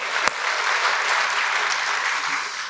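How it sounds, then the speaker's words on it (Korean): A church congregation gives warm applause after a choir's praise song, a full steady wash of clapping from many hands, opened by one sharp nearby knock, sustained evenly throughout. "다시 한번 뜨거운 박수로."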